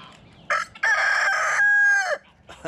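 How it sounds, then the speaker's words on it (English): A rooster crows nearby in a backyard flock, a long loud call that rises and then trails off, with short clucks just before and after it. "Jimmy, those are chickens."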